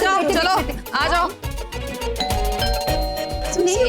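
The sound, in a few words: doorbell ringing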